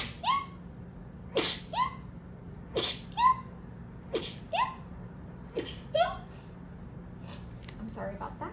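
A person sneezes repeatedly, about six sharp bursts spaced a second or so apart, close and loud over a low steady hum, with soft breathing and rustling between them.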